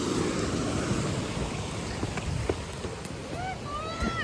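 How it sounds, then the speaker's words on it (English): Ocean waves surge and break against rocks below seaside cliffs, a steady roaring wash with buffeting wind noise, near and fairly loud throughout. "Just right into the rocks where the waves are coming."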